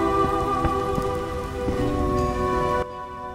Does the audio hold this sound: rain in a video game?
yes